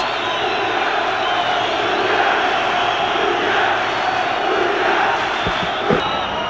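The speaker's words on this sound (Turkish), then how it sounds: "Seyircimizde büyük bir sevinç var." A big stadium crowd roars and cheers after Turkey scores against the USA in a 1991 football match, a loud, sustained wall of voices from start to finish.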